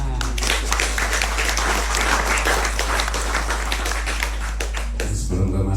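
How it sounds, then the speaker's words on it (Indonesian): Clapping at an Indonesian religious gathering with a kyai, a dense patter of hands ringing out over a steady low hum, continuing for several seconds before breaking off near the end. "Tepuk tangan."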